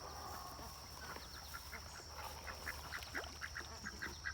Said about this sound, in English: I got the ducks all conditioned that they all get fed their own feeder in the morning